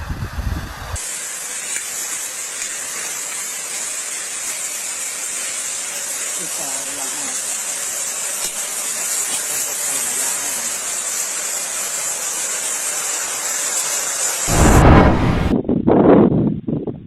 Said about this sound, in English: A sudden steam explosion erupts from Tal volcano in Philippines, caused when hot magma violently interacts with underground water.